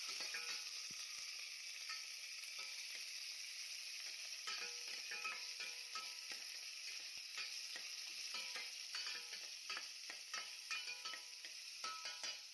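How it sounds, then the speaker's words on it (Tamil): Crushed garlic and onion sauté in hot oil in a pan while making pidi karunai tamarind curry, giving a steady, close sizzle throughout, broken by frequent scraping and clicking stirs, with no voices. "நம்ம கட் பண்ணி இடித்து வச்சுருக்க பூண்டு, வெங்காயம் இதை போட்டுக்கணும்."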